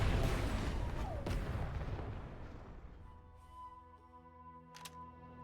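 Heavy rumbling explosion in The Outer Worlds 2, a loud broad blast that slowly decays into a droning hum with a sharp crack near the end.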